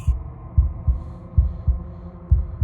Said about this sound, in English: a wooden and fleshy heart beating with an unbroken rhythm